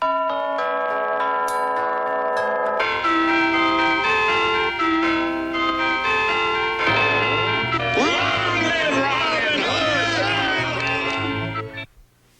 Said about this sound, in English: We could have a wedding on New Year and just have all the chimes in town going like...